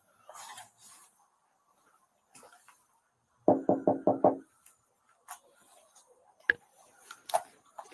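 A police officer raps on a door at a screened enclosure, five quick firm knocks in a tight cluster mid-clip, with scattered faint clicks, rustles and distant sharp noises around it.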